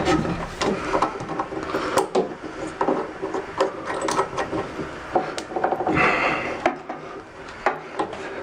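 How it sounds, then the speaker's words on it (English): A bidet hose is screwed onto its fitting by hand, giving close, irregular plastic rubbing, clicking and ratcheting scrapes that continue in short bursts. "take the hose that has the smaller one and just screw it on"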